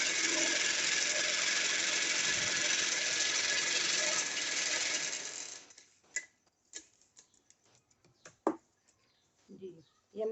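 A sewing machine stitching a line of fabric on a poncha runs in a steady, continuous whir for about five seconds, then stops, leaving scattered light clicks and handling noises.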